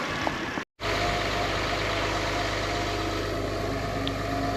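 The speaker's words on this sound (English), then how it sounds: "got the diesel hooked to it, and I'm sure you can hear that thing just a howling away in the background" A diesel truck engine hooked up to jump a Jeep runs on high idle, a steady loud droning hum that continues without a break after a brief cut near the start.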